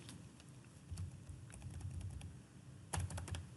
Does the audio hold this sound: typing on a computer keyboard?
yes